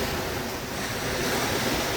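Choppy sea waves wash in steadily at Tsilivi beach on Zante, a continuous surf roar mixed with wind buffeting the microphone.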